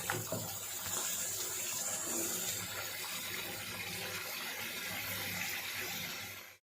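Water poured steadily from a container into a cooking pot, a continuous splashing gush that holds for about six seconds before cutting off abruptly, close and moderately loud with no talk.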